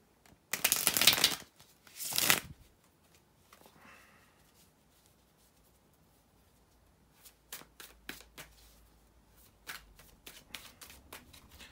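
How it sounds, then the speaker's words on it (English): Tarot cards being shuffled by hand, two loud bursts of riffling close up followed by quieter, scattered card handling and soft taps. "just bear with me a couple of seconds here to shuffle the cards"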